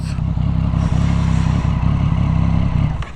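A hot Triumph Street Triple 675 motorcycle engine idles steadily, close and loud, with a fast, even three-cylinder thrum and mechanical clatter before it cuts off near the end.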